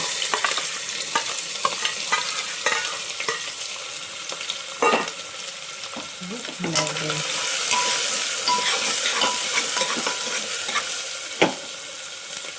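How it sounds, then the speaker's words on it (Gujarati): Onion and garlic sauté in a hot spiced tempering with curry leaves for Kathiyawadi vaghareli khichdi, a steady close sizzle punctuated by repeated scrapes and clinks of a spoon against the pan over several seconds. "હવે આને થોડીક વાર ડુંગળીને સાંતળવા દઈશું."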